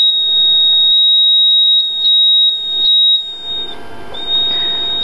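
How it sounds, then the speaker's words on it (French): A homemade liquid-detector buzzer sounds while its electrodes sit in water: a loud, continuous high-pitched tone that briefly dips and wavers toward the end. "si dans l'eau je touche les deux électrodes, le son est beaucoup plus fort"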